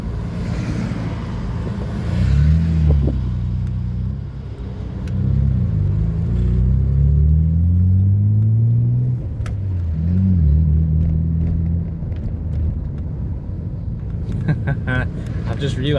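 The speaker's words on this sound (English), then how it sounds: "realised Cammy's driving the 300ZX" Nissan 300ZX Fairlady and Skyline R33 GTR driving, a steady engine rumble with rising and falling revs under continuous talk throughout.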